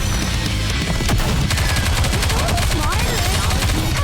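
Dense rapid gunfire from the mobile shooter game Goddess of Victory: NIKKE, loud bursts of automatic fire and shots layered over game music and effects, with voices talking over the action.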